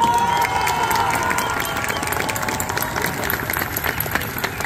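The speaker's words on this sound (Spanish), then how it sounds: "Un fuerte aplauso para ellos." A concert crowd applauds the band at an anniversary show, with dense clapping mixed with cheers, whistles and shouts, loud and steady throughout.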